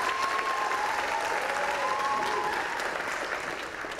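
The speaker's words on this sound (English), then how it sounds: "See, that round of applause" Steady applause from an audience at a community college staff gathering, a dense even wash of clapping filling the room at moderate distance and easing slightly toward the end.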